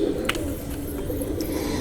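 A pigeon coos softly inside a loft amid a constant low background rumble, with a few faint chirp-like accents breaking through.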